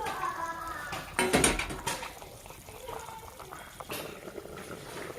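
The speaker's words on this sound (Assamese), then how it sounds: "অকণমান দেৰি তেনেকৈ ঢাকন দি পেলাই মই ভালদৰে উতলিবলৈ দিম।" Fish curry with bitter gourd and spinach bubbles in a covered pot, a soft steady boil with brief louder clattering bursts near the lid.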